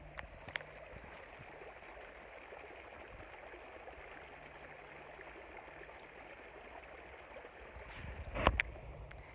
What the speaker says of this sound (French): Regarde-moi ça, cette petite rivière, comme elle est mignonne